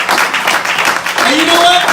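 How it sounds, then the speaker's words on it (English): An audience at a fundraising event in Columbus, Ohio applauds for Omoyele Sowore, with continuous clapping throughout and a voice talking over it near the end. "A round of applause for Sowore himself."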